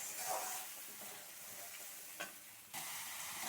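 Ground spice paste frying in a pan with oil and a splash of water, a continuous soft sizzle and hiss with occasional scrapes of a spatula, close but quiet, with a sudden louder sizzle near the end.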